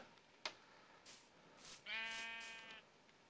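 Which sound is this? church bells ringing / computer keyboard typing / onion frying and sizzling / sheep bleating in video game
sheep bleating in video game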